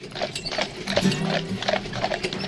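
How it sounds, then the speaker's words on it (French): Trait du Nord draught horses trot, their hooves clip-clopping in a steady, even rhythm at close range, accompanied by faint jingling and creaking of harness, with no talking. "fait passer ses chevaux du pas au trot"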